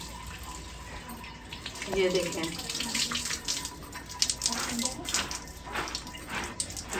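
Food is rinsed under a running tap during home cooking for an iftar meal, a steady hiss of flowing water with irregular splashes as it is handled, while someone talks over it.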